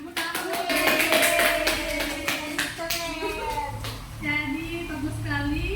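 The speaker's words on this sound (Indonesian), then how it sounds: "Tepuk tangan." A classroom of children claps for a student's story, with a burst of clapping followed by kids' voices chattering and a voice.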